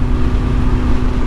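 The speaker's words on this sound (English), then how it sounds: "we got a lot of wind right now" Strong outdoor wind buffets a microphone, producing a loud, continuous low rumble for just over a second with no voice.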